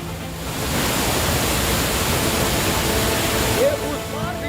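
Floodwater from heavy rain rushes steadily down the stairs of an ashram in Chitrakoot, a loud continuous roaring wash of water throughout.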